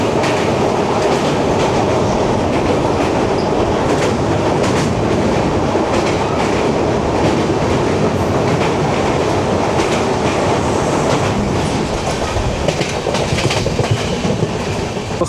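A sleeper-class train on the Delhi–Amritsar line near Ludhiana makes a loud, continuous rumble of wheels on rails with rhythmic clickety-clack and metallic rattling, heard close for the full run with no speech.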